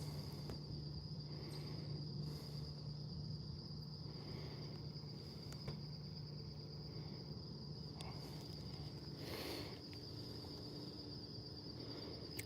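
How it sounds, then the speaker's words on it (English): Crickets chirp in a steady, high, continuous trill by a New Jersey lake at sunrise, a faint outdoor bed with no talking. "Crickets?"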